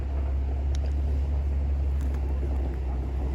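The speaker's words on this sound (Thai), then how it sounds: "ความสามารถของคนขับรถสิบล้อนะคะ รถดำนะคะดำสิบล้อ เขาถอยเข้าอย่างเดียว" A ten-wheel truck reverses into a narrow track through a rubber plantation, its low, steady engine rumble running continuously at a moderate distance with a few faint clanks over the top.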